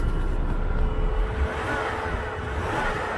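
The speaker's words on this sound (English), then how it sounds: "That little 5-cylinder just sounds just sweet as can be." A 2007 Volvo XC70 2.5T Cross Country with a turbocharged five-cylinder engine runs steadily as a low, continuous drone from inside the car, with no talking.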